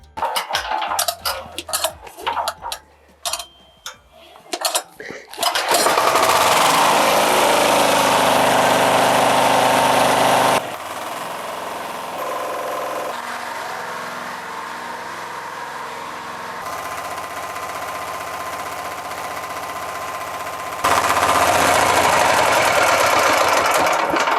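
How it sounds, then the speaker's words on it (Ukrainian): A small TATA 186F diesel engine cranks and sputters, then settles into a steady, loud running drone that continues unevenly, shifting in tone as it idles and warms before an oil change. "для того, щоб поміняти мастила, двигун потрібно прогріти"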